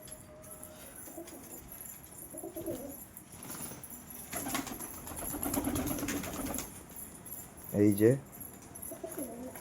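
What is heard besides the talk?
pigeons cooing while being fed wheat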